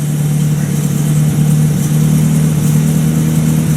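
A 1950 Buick Roadmaster engine runs just after starting and still needs nursing on the gas pedal. It gives a loud, steady, close idling drone with a low hum and no voices.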